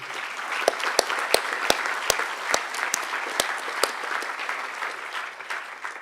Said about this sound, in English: worthy of a lot of applause